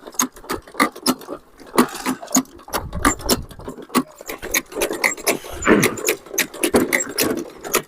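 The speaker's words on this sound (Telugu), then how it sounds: "దీని పేరు వచ్చేసి హ్యాండ్ పుష్ సీడర్. ఇది ఇలా ముందరికి ఇలా దొబ్బాలి." A hand push seeder for planting maize is rolled forward, its mechanism giving rapid, uneven metallic clicks and wooden rattles up close, with a brief rumble midway.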